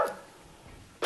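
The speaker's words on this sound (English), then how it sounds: "You like my dog kind of singing to you guys in the background?" A dog howls in the background, faint, drawn-out vocal sounds at the start and again at the end, heard alone without talk.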